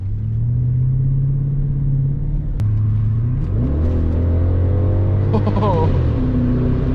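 A BMW X5 with a 4.8-litre V8 accelerates on kickdown: a low, steady engine drone swells mid-clip into a rising, climbing rev that holds high near the end, with a voice present over the cabin rumble.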